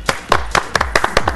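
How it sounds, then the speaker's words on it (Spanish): Guests at a Christmas village event clap: a small group, close by, giving about a dozen distinct claps in a loose, uneven rhythm that stops quickly. "invitados, por favor, aplaudamos."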